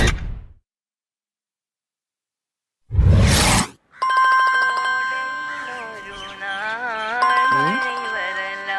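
Phone ringing with a musical ringtone for an incoming call, a sustained melodic tone with shifting pitches, coming in loud after a brief whoosh.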